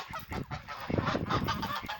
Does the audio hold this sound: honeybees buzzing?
no